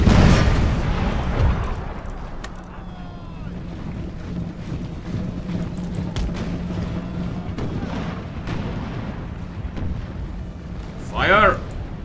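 Cannon volleys from an artillery battle in the Imperial Splendour mod with a Russian army, heard as deep booming blasts at the start and again near the end over a steady rumbling battlefield background.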